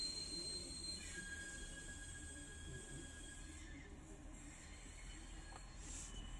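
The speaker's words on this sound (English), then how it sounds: "I'll wait for this train to go by." A train rolls past, a steady low rumble of wagons with high metallic wheel squeal and hiss running throughout, fairly distant and alone without talk.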